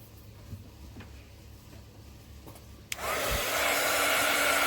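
A hair dryer switches on after a quiet stretch with a click and then blows steadily and loudly while drying polymer clay, a constant close whoosh with a whining tone and no talking.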